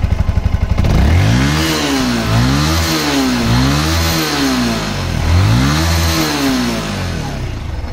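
A 2016 Yamaha M-Slaz motorcycle engine starts up close by, then revs repeatedly in rising and falling swells, about five throttle blips in a row over a steady idle.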